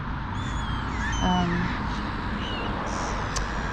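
Crows caw in a field where food has been thrown out for them, a few short calls standing out over steady outdoor background noise, with seagulls nearby and a voice faintly present.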